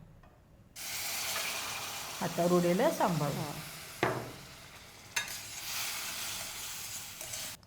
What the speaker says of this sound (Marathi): आता पाणी घाल आणि एका हाताने हलवत राहा हो.